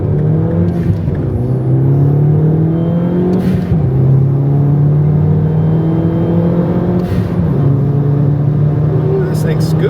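A modified turbocharged Mini, its exhaust not yet fitted, accelerates hard with a loud, steady engine drone that climbs in pitch and drops back at each gear change, heard from inside the car.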